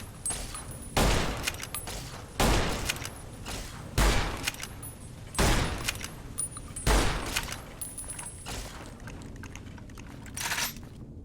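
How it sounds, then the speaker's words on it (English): A robot fires its weapon in Fallout New Vegas, loud bursts of gunfire arriving at regular intervals about every one and a half seconds, each one trailing off, with mechanical clatter and ambient game noise between the bursts. "Firing weapon."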